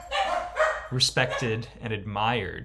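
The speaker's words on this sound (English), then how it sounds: "pardon the noise that the dogs in my house just made." Dogs barking inside a house, sharp yips and woofs early on, then a person talks over fading whimpery dog sounds.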